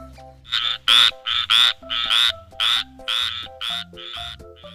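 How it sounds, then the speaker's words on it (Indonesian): A frog croaks repeatedly in a steady series of loud, close, raspy pulses, about two per second, with no talk over it. "Wih, ini ada kodok."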